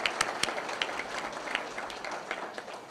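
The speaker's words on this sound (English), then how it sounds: "let's give everyone applause for these classes" Applause from a banquet audience honoring alumni classes of a high school, a steady wash of many hands clapping with a few sharper claps standing out near the start, moderately distant and continuous throughout.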